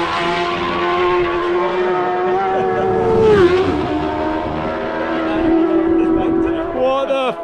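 Racing motorcycles scream past at speed on the Isle of Man TT course during the inspection lap, loud high-revving engines rising and falling with Doppler sweeps, one bike after another close by.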